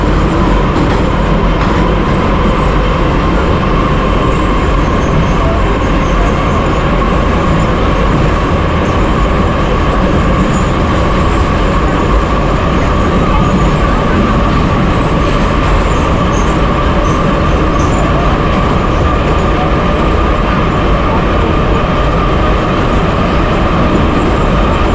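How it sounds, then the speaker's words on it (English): Tbilisi metro train running underground, with metal wheels groaning and rumbling on the rails in a loud, continuous, close drone and a faint tonal whine throughout. "the sound of metal wheels groaning on the rails"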